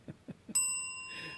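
A bicycle bell rings once with a sharp, bright ding that decays slowly, preceded by three soft low thumps, heard in a garage setting with no speech.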